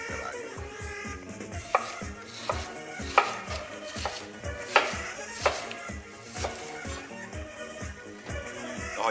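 A knife chops onion into wedges on a board, a steady series of crisp, close knocks with a few sharper cuts, heard alone without talk.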